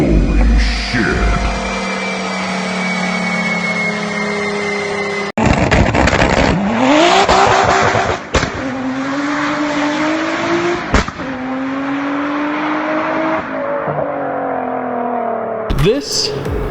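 A 2001.5 Audi B5 S4 sleeper tuned to 500 hp revs loudly and close, with tires squealing and the engine pitch climbing repeatedly, and voices heard under the noise.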